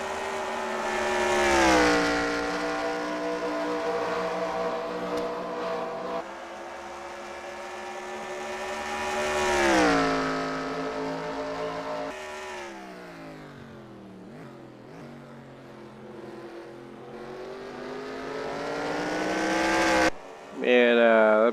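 Race cars lap Old Spice Speedway, their engines swelling loudly as they pass close and fading between passes, with repeated revving sweeps and a commentator talking over the track noise.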